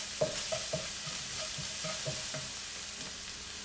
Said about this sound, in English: So we're gonna add the shallot, garlic, and stir together.